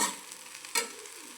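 A spoon scrapes through bitter gourd with jaggery and lemon in a pan over low heat, two quiet stirring strokes over a faint sizzle, close and soft.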